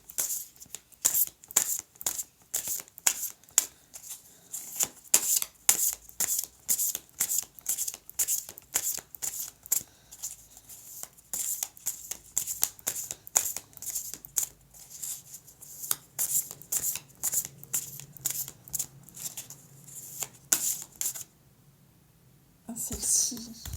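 Tarot cards are shuffled for a reading in rapid, crisp riffling bursts that repeat almost nonstop, close up, with a soft voice murmuring at times.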